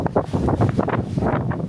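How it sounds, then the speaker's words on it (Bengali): Strong stormy wind gusts roar in a steady, buffeting rush before rain in rural Bangladesh, loud and close with rustling, no speech. "পুরো ঝড়ো বাতাস, অন্ধকার হয়ে গেছে, যে কোনো মুহূর্তে বৃষ্টি নামতে পারে"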